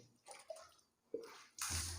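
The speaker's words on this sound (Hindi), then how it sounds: "3 बार आपको बाएं कंधे पे पानी बहाना है" Water poured by hand over the body during ritual bathing, with a few separate splashes and pours, quiet and close, the last one a heavier gush onto a hard floor.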